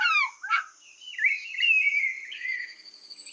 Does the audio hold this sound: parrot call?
yes